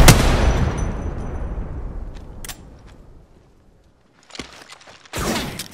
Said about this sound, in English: They spotted me. I'm taking shots. I'm taking fire.